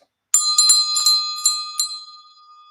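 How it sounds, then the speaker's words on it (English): A hand bell is struck several times in quick succession to open a class, each clear ring decaying into a lingering metallic tone, loud and close with no talk. "I'm going to ring the bell to officially start us"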